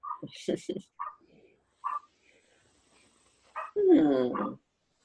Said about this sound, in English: That dog can bark. The door is even shut